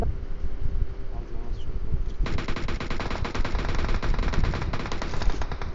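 Rapid automatic gunfire in an online shooter video game bursts out in long, loud, steady volleys, with players talking in the background.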